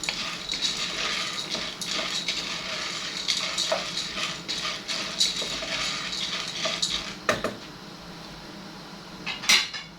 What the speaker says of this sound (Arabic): هقلب كده المكرونه تاني، ابتدت تلون معانا